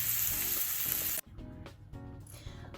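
Onions caramelising in a hot pan for a cheese and onion tart, a loud steady sizzle with occasional stirring scrapes and clinks, the frying hiss dropping sharply partway through and then continuing more softly.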